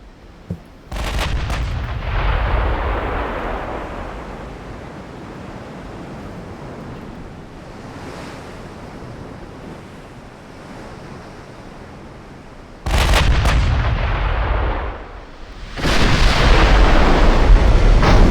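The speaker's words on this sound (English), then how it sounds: "He's firing at our battleship, so we should be okay." Naval artillery booms out at a battleship in the Ultimate Admiral Dreadnoughts warship game: a loud blast near the start, then two more heavy salvos near the end over a rumbling sea-like wash, with no speech.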